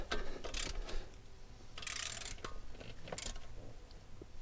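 A 3/8-inch drive ratchet turns a belt tensioner on a Bobcat 5600 Toolcat, giving a few separate close clicking bursts. Quiet mechanical handling noise sits between them.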